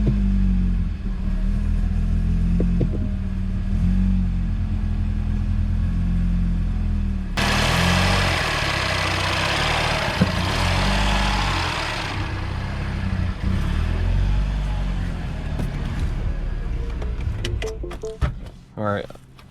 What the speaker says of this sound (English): I didn't want to leave it running for too long because I think the charge pipe is causing the engine to like stutter a little bit